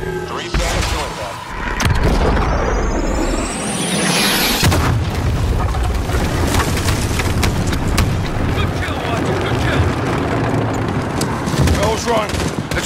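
Demolition charges blowing up a bridge in Call of Duty: a loud blast, then heavy rumbling debris and scattered gunfire, with voices calling out over the din.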